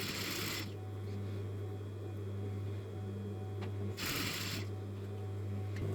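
Sewing machine stitching fabric, a steady low motor hum with faint rapid needle ticking, plus two brief bursts of louder rustle or rubbing.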